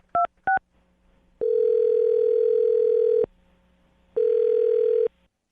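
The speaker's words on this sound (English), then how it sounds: "I'm going to dial his phone number right now." Telephone call being placed: two quick keypad beeps, then two long, steady ringing tones separated by a pause, loud and clear with no talking.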